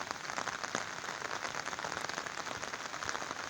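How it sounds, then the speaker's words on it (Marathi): Dense, steady rushing of floodwater from a fast river in full flow, continuous and fairly loud with no voices. "अर्जुना नदीचा प्रवाह केवढा जोरात वाहतो आहे"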